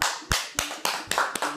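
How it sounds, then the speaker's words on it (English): Rhythmic clapping, six evenly spaced sharp claps about a quarter second apart, close and crisp, with no talking between them. "Stop clapping."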